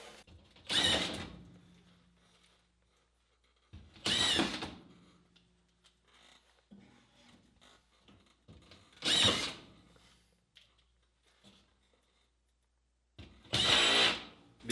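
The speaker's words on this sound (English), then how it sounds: "And then we just grab my drywall gun, grab some fine thread screws" A drywall screw gun drives fine-thread screws into drywall in four short, loud bursts spaced a few seconds apart, separated by quiet handling noises.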